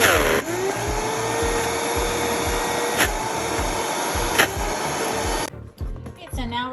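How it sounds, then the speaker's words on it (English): A kitchen blender whirs loudly and steadily, pulsing as it chops chickpeas and pecans for vegan meat, then cuts off near the end, leaving scattered clatter. "now it is ready to blend."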